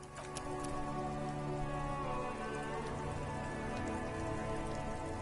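Steady rain in the video game Disco Elysium, a dense continuous patter of drops on surfaces with a faint hum underneath, no talk.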